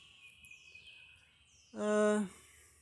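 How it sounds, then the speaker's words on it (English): A single loud, tonal call with stacked harmonics sounds near the end in a swamp, over faint background chirps and calls of birds and frogs. "If you can hear the frogs and the birds"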